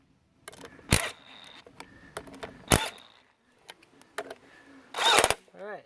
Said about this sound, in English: So I just use the impact driver.